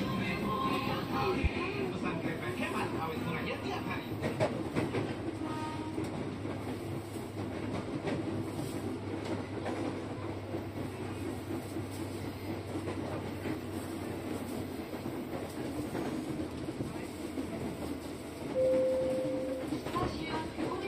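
An Indonesian KRL commuter train on the Kalideres to University of Indonesia line rumbles steadily from inside the carriage, with continuous wheel-and-rail noise, faint clattering, a brief tone near the end, and voices talking over it.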